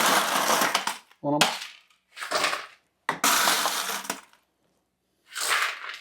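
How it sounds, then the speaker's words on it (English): Ice cubes from an ice maker are dumped in several clattering, crunching bursts onto freshly boiled eggs, loud and close with short gaps between pours, and a brief spoken phrase in the middle. "I like to throw some ice from the ice maker"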